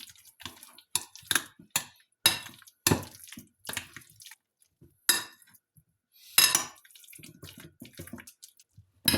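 Pineapple salad is tossed with a utensil in a bowl, giving a string of separate clinks and wet, squelchy scrapes in uneven bursts with short quiet gaps, close and without speech.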